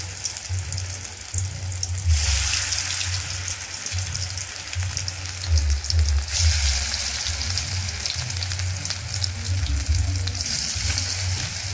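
Pumpkin flower fritters frying in hot oil, a dense, continuous sizzle close by that swells into louder crackling bursts from time to time.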